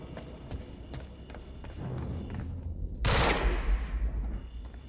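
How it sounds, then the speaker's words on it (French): Rapid bursts of gunfire in Quantum Break crackle in quick succession, then a sharp loud blast of shots near the end, with faint game sounds beneath. "Il a bien dit qu'il fallait tirer dedans."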